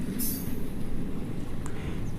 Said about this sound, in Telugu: ఆకువీడు నుంచి బయలుదేరుతుంది, డిపార్చర్ అయిపోయింది అమరావతి ఎక్స్ప్రెస్